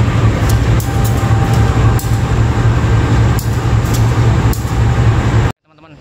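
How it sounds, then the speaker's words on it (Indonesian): Gajah Wong passenger train from Lempuyangan to Jakarta Pasar Senen, hauled by a double-traction locomotive, rumbling steadily close by with periodic rail-joint clacks before cutting off abruptly. "yang ada di sebelah kanan saya ini adalah rangkaian kereta api Gajah Wong dari Lempuyangan ke Jakarta Pasar Senen"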